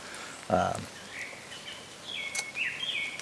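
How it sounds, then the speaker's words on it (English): Birds chirp and whistle faintly in the distance in Aokigahara Forest, Japan, with a brief low thump early on and quiet outdoor ambience around them. "This is the first time I actually heard birds out here."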